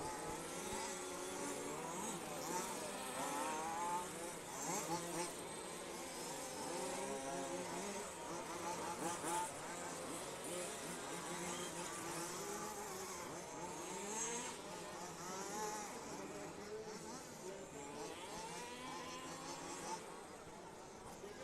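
Off-road RC cars racing their final lap at an EFRA large-scale event at Stařeč, a dense, continuous buzzing whine of engines rising and falling as several cars pass, with commentary and crowd noise faintly mixed in.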